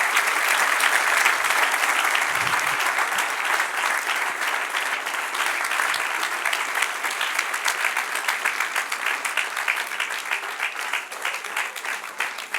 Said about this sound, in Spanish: Dale otro aplauso al que reina.